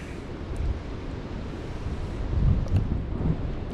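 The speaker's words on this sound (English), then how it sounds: "All right, so the wind is picking up. I'm sure you can hear that." Wind gusting outdoors on a cold evening, a rough, steady rumble buffeting the microphone that swells stronger partway through, with no voices.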